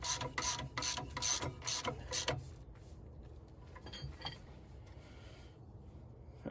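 A ratchet wrench tightens a bolt on a cab-over GMC truck, with a rapid run of loud clicking pawl strokes for about two seconds, then faint scattered mechanical clicks and shuffling.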